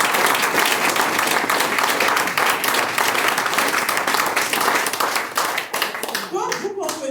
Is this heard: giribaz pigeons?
no